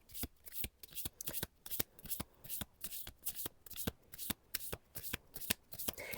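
Deck of oracle cards being shuffled by hand, a quiet close run of riffling bursts in a steady rhythm, with faint talk at times.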